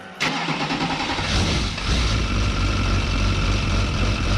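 A twin-turbo LB7 Duramax diesel engine with an LS intake cranks briefly, then catches and settles into a loud, rough, steady idle with a deep low rumble, close by.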